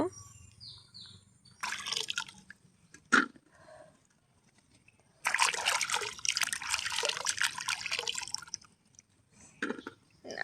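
Jackfruit seeds being washed in water outdoors beside a pond, giving intermittent splashing and dribbling bursts of water, with a longer stretch of sloshing midway and quiet gaps between.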